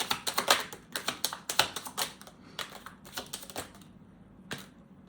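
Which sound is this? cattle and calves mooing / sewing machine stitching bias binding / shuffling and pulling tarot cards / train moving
shuffling and pulling tarot cards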